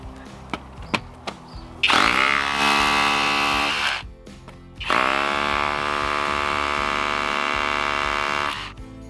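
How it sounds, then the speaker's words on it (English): A hammer drill with a chisel bit in hammer mode roars loudly in two long bursts, rattling and grinding as it breaks concrete, with a short pause between them after a few knocks. "I've just got my drill in the hammer action mode."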